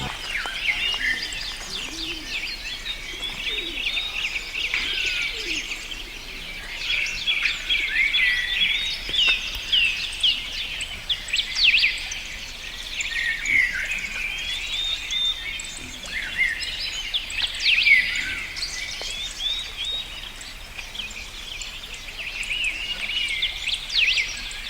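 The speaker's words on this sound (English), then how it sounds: "if you listen carefully, you will be able to hear the songs of the birds" Many birds sing and chirp steadily in Similipal forest, a dense overlapping chorus of high calls with no voices, carrying on continuously throughout.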